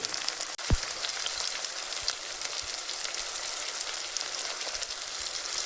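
Tomatoes hit hot oil in a frying pan for a mung dal and cabbage dish, setting off a steady close sizzle with a few small pops and clinks, heard alone.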